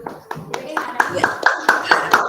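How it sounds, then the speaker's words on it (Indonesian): An audience claps at the close of a school meeting, a short burst of distinct, rhythmic hand claps that grows denser over about two seconds. "mari tepuk tangan dulu semuanya"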